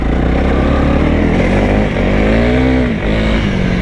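Honda CRF300L 2025 enduro motorcycle engine droning loudly and steadily up close on wet grass, revs rising and falling with a clear pitch sweep near the end, no talking.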